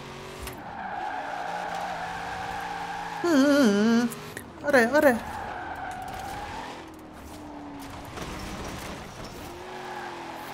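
Car tires in the racing game Forza Horizon 4 squeal in two loud wavering bursts over a steady engine drone, with a voice speaking briefly.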